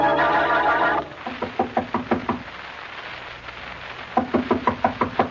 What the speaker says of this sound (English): Well, Mary, we've knocked on the door enough times to be the police.